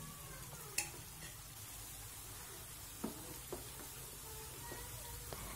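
Potato pieces fry in hot oil for crisp homemade fries, a steady low sizzle running throughout with a few faint clinks and scrapes of stirring.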